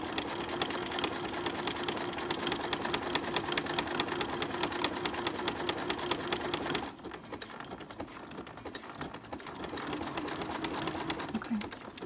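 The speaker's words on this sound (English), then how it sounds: "I'm going to place the needle, put the foot down." A sewing machine stitching leggings for an 18-inch doll, a fast, steady mechanical whirr that stops abruptly partway, followed by quieter handling noise.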